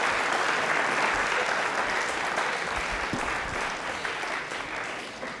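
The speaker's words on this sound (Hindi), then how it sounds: "तालियां एक बार अनीश सर के लिए जोरदार वाली हो जाए" A studio audience at the DD Rajasthan quiz show Prashnottari gives sustained, loud applause welcoming guest Anish Vishwanathan, a dense wash of clapping that stays steady and eases slightly toward the end.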